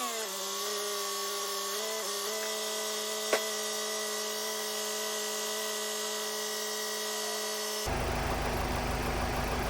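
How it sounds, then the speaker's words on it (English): A Ford Transit Custom van's 2.0 EcoBlue diesel engine idling with a steady, even drone and a faint click partway through, ending in a sudden shift to rougher noise as the engine is shut off. "I'm just going to turn the engine off quickly now"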